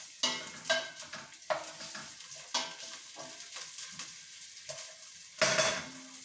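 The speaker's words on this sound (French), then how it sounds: "mes oignons et l'ail sont à revenir" Onions and garlic sauté in a pan for a tagine, a soft sizzle broken by repeated clacks of a utensil stirring against the pan, close and fairly quiet.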